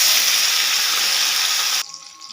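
Tomato dropped into hot oil spiced with dried chilli, five-spice seeds and asafoetida gives a loud, steady hiss of sizzling that cuts off sharply near the end, leaving a faint quieter sizzle.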